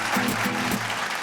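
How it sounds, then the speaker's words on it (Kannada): A studio audience on a Kannada TV comedy show claps for the makeup man in a short, dense burst of applause that holds steady at moderate loudness for just over a second. "ಆ ಮೇಕಪ್ ಮ್ಯಾನ್ಗೆ ಒಂದು ದೊಡ್ಡ ಚಪ್ಪಾಳೆ ಬರಲೇಬೇಕು ಪಾಪ."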